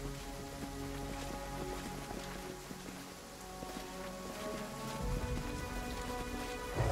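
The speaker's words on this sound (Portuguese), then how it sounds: "Quando tem essas mecânicas de chuva é meio chato" Rain in the Pathfinder Kingmaker video game falls as a steady, soft patter with constant hiss, quiet and unbroken, while low tonal game sounds run underneath.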